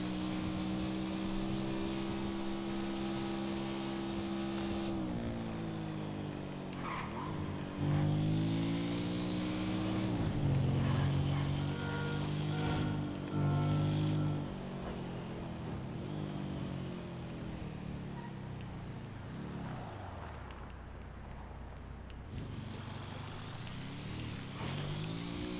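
A motorcycle engine in GTA RP drones steadily for about twenty-five seconds, its pitch swelling and dropping as the bike accelerates and shifts, loud and continuous with no voices.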